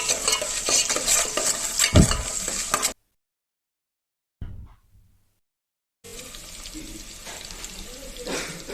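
Ginger garlic paste stirred into a frying pan, a close sizzle with spatula scraping that cuts out into silence midway, with a brief faint knock in the gap, then resumes more quietly.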